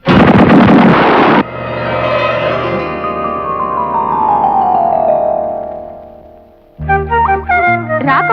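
Coconut bombs go off in a Telugu comedy film scene. A loud, harsh blast comes first, then a long falling whistle-like tone fades out, and bright punchy music stings follow.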